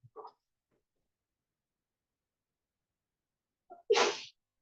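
A single sharp sneeze bursts out in a quiet lecture room, loud and close, preceded by a brief faint intake of breath and a short sound a few seconds earlier.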